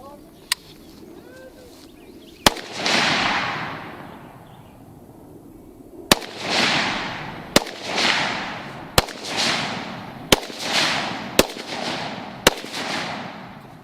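Sharp rifle shots crack one after another at an outdoor rifle training class, about seven loud reports spaced a second or two apart, each trailing a long echo, with a faint voice early on.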